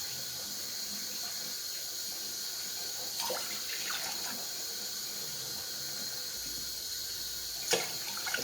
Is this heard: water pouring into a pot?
yes